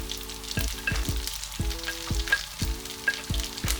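Chopped onion and capsicum go into a pan of lightly sautéed garlic and sizzle steadily close by, with repeated knocks of a spoon stirring. No one speaks.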